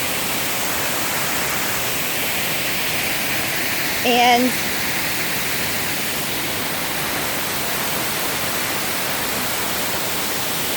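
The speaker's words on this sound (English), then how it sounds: "my first waterfall in Indonesia." Jagir Waterfall in Banyuwangi, Indonesia roars as a constant, dense rush of falling water filling the whole scene, with a brief spoken word partway through.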